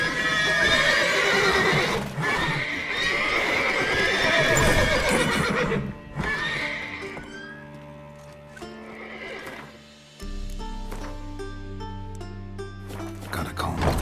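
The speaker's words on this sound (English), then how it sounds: "Gotta calm off the horses before they wake the guards." Horses in The Witcher 3 whinny and neigh loudly several times, with clip-clopping hooves beneath, the calls thinning out later over quieter game music.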